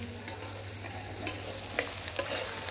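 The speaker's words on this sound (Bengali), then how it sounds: "হালকা ভাজা হয়ে গেছে, একদম বেশি ভাজছি না আমি।" Onions frying lightly in a pan over a wood-fired stove, a soft steady sizzle under a low hum, broken by a few sharp clinks of stirring.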